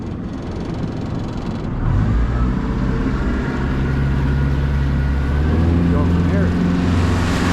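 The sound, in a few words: Yamaha fuel-injected outboard boat engine running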